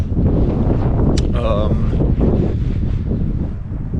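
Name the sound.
strong wind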